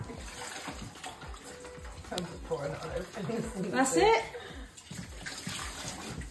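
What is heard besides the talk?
running water rinsing meat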